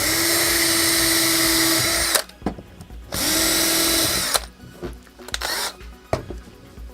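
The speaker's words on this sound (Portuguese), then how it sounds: "Vamos aqui então usar a nossa boa e velha parafusadeira." A cordless screwdriver drill driving wood screws with washers into a piece of wood, two long steady whirring bursts separated by pauses filled with small clicks and handling knocks, loud and close.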